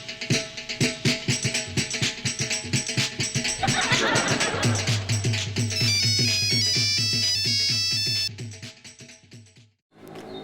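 A phone ringtone plays as a bright repeating electronic melody over a pulsing beat, loud and continuous for several seconds before cutting off abruptly, followed by a brief sound after a moment of silence.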